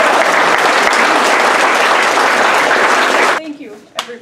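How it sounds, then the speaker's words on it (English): A large audience gives a loud, sustained round of applause for a teacher at a ceremony, dense clapping that fills most of the moment before cutting off abruptly, followed by a brief quiet tail. "let's all give her a very loud round of applause"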